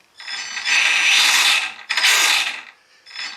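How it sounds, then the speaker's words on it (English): A harsh, gravelly mechanical grinding from the drive chain of a 1/4 scale SkyRC RC motorbike, in two long bursts and a shorter third, loud and close, with no talking. "It's a gravelly sound coming from the drive chain."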